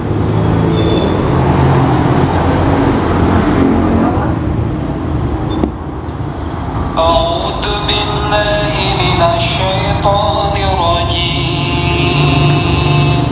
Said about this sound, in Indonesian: maaf ya kalau suaranya bising berisik, ini nge-review handphonenya di pinggir jalan ya